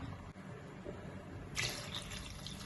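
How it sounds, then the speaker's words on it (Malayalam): Faint background hum, then water starts pouring into a cooking pot of fish curry with tamarind, tomato and masala partway through and keeps running with a soft splashing rush. "ഒരു രണ്ട് ഗ്ലാസ് വെള്ളം ഒഴിക്കുക"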